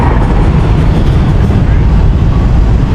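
A third-class fan-cooled passenger train on the Hua Hin to Thonburi line rumbles loudly along the rails, a continuous close, heavy roar with faint rhythmic clatter filling the whole stretch.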